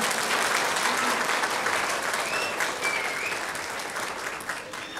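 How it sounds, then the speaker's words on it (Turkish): An audience of school parents applauds at a school tea gathering, a steady wash of clapping that slowly tapers off, heard from a distance. "Sizden bu fedakar bayanlar için bir alkış istiyorum lütfen."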